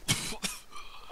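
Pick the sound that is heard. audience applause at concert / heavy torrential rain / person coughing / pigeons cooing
person coughing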